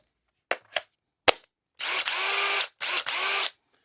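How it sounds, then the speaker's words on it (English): A Porter Cable power driver, fitted with an adapter running an 18-volt battery, spins in two sustained whirring bursts of about a second each, close and loud, after a few sharp clicks. "There's my trusty Porter cable driver."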